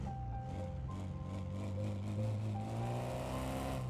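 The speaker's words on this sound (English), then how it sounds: "they've done a lot of work on the engine sounds" A small Civic-style hatchback's engine in the Car Mechanic Simulator 2026 demo, revving and climbing through gears with rising, fairly loud tones, heard alone without talk.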